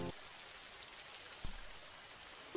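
Steady rain falls in a continuous soft hiss, faint and even, with a brief thump partway through.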